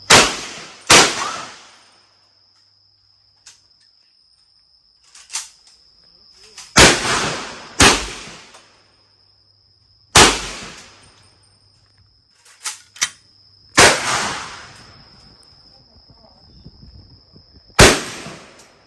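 An M60 machine gun fires outdoors, alternating sharp single shots with short bursts, each loud crack trailing into a brief echo, spaced by pauses over nearly twenty seconds.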